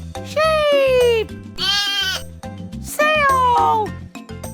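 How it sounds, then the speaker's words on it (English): Sheep-like bleats in three wavering, drawn-out calls over a bouncy children's music backing, fairly loud and up front. "Sheep!"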